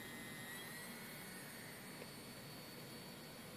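A brushless DC motor driven by an electronic speed controller spins at very high speed, producing a steady, faint, airy whine with broad hiss, unchanging across the whole stretch.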